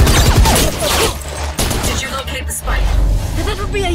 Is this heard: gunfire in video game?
yes